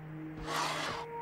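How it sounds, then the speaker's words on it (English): A door creaks open in a video game, a single scraping, rubbing sweep that swells and fades over about a second against a quiet ambient hum. "It was that door opening."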